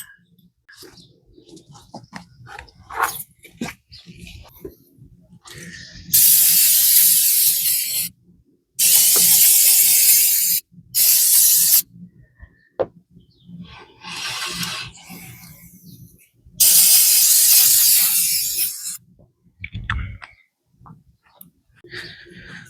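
Brake cleaner is sprayed from a small can onto axle brakes, producing several loud hissing bursts of a few seconds each, separated by quieter clinks and handling noises.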